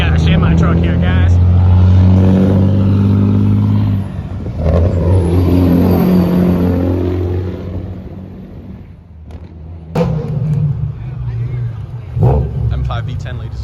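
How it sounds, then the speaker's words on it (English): BMW M5 with a V10 engine revving hard at a cars-and-coffee meet in Warwick, Rhode Island; a loud, near engine note rises and falls in bursts, with people talking nearby. "M5 V10, ladies and gentlemen."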